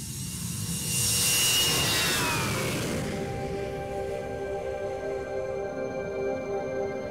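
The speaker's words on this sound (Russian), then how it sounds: "наш самолет готов к взлету" Jet airplane on the ground getting ready for takeoff on an Arctic expedition flight: a loud rising whine that sweeps down and then settles into a steady engine hum with sustained tones, heard close, no voices.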